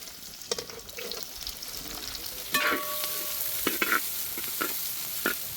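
Big and small onions are sautéed in a pan for a Kerala mutton coconut fry, with a steady frying sizzle under scattered stirring clacks and one sharp metallic clink, close up and with no talking.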